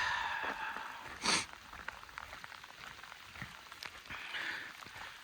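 Steady rain falls in stormy Pacific Northwest weather, a soft, even hiss that stays fairly faint throughout. One brief, louder burst of splashing rises near the start.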